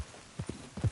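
Horse hooves clip-clop in Red Dead Redemption 2, a quick run of soft, dull thuds picking up pace and loudness toward the end.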